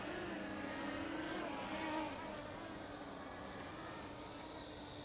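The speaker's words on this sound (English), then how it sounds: "I'm just going to go ahead and manually land this drone now" Ameta S50 Lite 249g mini GPS drone flying and being landed by hand: a steady, faint high-pitched propeller whine with a slight wavering tone, heard continuously at some distance with no other sound over it.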